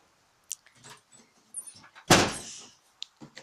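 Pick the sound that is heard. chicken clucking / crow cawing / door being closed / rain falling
door being closed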